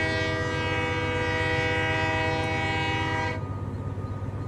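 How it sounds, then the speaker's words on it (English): Locomotive in the Train Life game sounding a loud, sustained chord-like horn over a heavy rumbling engine, the horn cutting off near the end while the engine drone continues, with no talking. "Alright, opening up the throttle."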